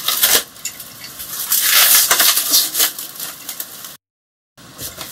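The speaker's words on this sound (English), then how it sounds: "So let's unwrap it, see what we've got." Courier packaging is pulled off artist painting panels, giving loud, close crinkling and rustling in bursts, with a brief gap of silence near the end.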